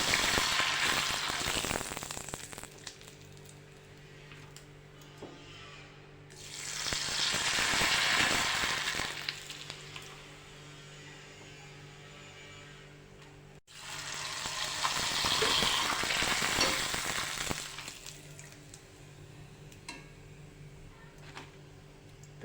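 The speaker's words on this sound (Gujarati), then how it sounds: "આવી રીતે આપણે બધા પાપડ તળી લઈશું" Homemade potato papad fries in hot oil, giving two loud swelling bursts of crackling sizzle. Each burst is separated by a quieter stretch of low bubbling, and there is no talk over it.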